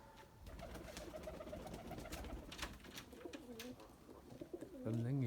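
A white pigeon in a rainy, muddy setting coos in soft, low rolling phrases, faint and close, over a background of dripping and ambient noise, with a louder coo at the end.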